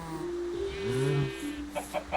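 Chickens in the survival video game Crol cluck and squawk close by, a few drawn-out calls followed by short rhythmic clucks, with no talk.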